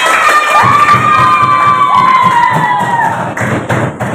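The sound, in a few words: classroom children applauding and cheering their group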